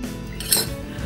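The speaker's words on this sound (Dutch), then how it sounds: "Ga ik deze in stukken snijden." Knife and utensils clink against a plate or board in brief scraping, cutting sounds, close by, amid light kitchen noise.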